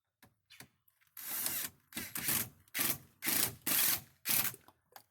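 Leftover screws being driven through pieces of house siding into a wooden skid for an IBC tote raised garden bed: six or so loud, rough grinding bursts of about half a second each, separated by short pauses, with no talk.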